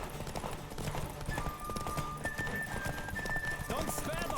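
Horse hooves pounding at a gallop during a race in The Witcher 3, a fast rhythmic clatter mixed with game music and effects, while a player talks over it.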